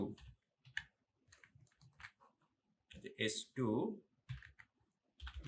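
Light, scattered key clicks as someone types code on a computer keyboard, heard under steady talking.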